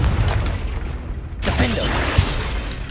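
A Confringo spell blast in Hogwarts Legacy, a sudden booming burst that flares out into a crackling rumble, loud and near.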